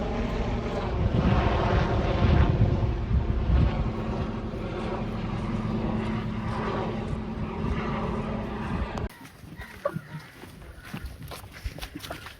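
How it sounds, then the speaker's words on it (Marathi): A helicopter passing overhead near Bangoda lake, its engine and rotor drone loud and continuous before cutting away to quieter outdoor sounds. "बाय बाय करत हेलिकॉप्टरला"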